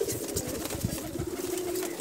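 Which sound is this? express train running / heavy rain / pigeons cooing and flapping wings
pigeons cooing and flapping wings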